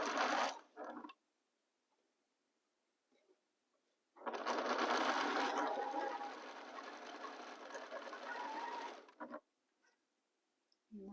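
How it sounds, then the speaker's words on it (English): A sewing machine stitches fabric with a quarter-inch seam, whirring in a brief burst and then running in a loud, steady, close hum for about five seconds before stopping, with a short burst again at the end. "I align my fabrics here very well and start sewing."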